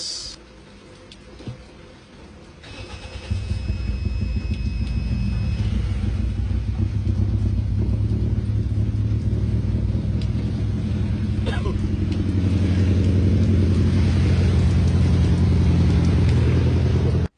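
A Toyota Yaris engine runs after a tune-up, a steady low rumble that rises in loudness partway through and keeps going at close range.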